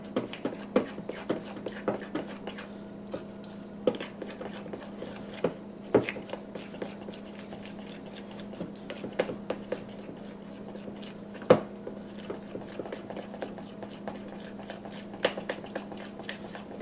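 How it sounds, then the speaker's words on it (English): A spoon stirring a sticky Scotcheroos mixture of Rice Krispies cereal in a bowl, giving a steady run of light clicks and scrapes with occasional sharper knocks against the bowl, close and fairly quiet. "I will just continue mixing these together"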